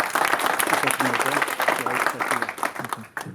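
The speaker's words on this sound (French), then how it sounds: "il faut encore les applaudir très fort" An audience claps at a conference, a dense, continuous patter of many hands that is loud and close, with voices mixed in, fading out at the end.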